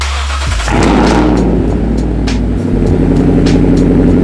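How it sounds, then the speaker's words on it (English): A straight-piped 2014 Toyota Tundra with its muffler deleted fires up and revs, a loud, deep, raspy exhaust roar close by that holds steady with a short dip midway, heard alone. "Last week I got the Tundra straight piped."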